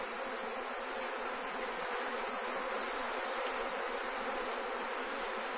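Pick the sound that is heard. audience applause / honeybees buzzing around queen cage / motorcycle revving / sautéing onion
honeybees buzzing around queen cage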